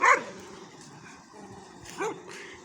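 Dogs bark on a village road: one loud, close bark at the start, then a quieter bark a couple of seconds later, with faint outdoor background in between.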